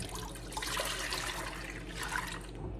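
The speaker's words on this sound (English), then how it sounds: "I'm gonna pour my milk in there" Milk poured into a pot on a stove over low heat for Abuelita hot chocolate gives a close, steady splashing pour that lasts nearly three seconds and then stops abruptly.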